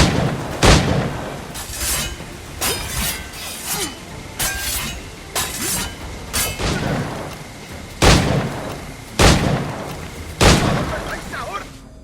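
Pistol and musket shots with shattering impacts in the pirate action game Assassin's Creed Black Flag, a dozen sharp cracks spaced irregularly over ambient game noise, loud and close.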